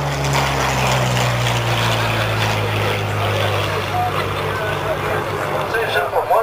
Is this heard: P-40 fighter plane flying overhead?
yes